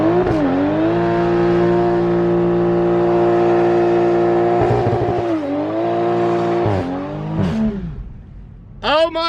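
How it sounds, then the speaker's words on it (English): A Toyota Supra doing a smoky burnout with traction control switched off, its engine screaming at high revs in a loud, sustained howl that dips and surges several times before cutting out, followed by a brief burst at the end. "that's as good as a burnout as any Hellcat or Demon I've seen"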